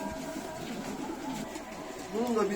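Pigeons coo softly in low, rolling murmurs amid a steady background hum, with a louder coo near the end.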